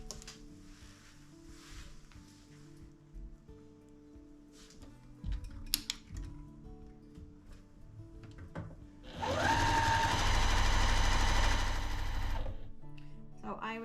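A sewing machine chain-pieces quilt pieces in one steady, loud burst of rapid stitching for a few seconds, after quieter handling and rustling sounds.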